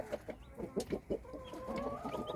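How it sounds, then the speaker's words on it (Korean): Baby chicks two days old peep and cheep in quick, close bursts beside a hen, soft clucking mixed in, no voices. "이 병아리들은 안지가 이틀 되었습니다."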